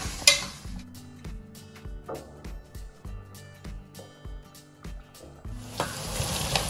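Onions fry in a pan for a paneer and soya chunk pulao, a soft sizzle under repeated spatula taps and clinks against the pan, with music playing and a louder sizzle burst near the end.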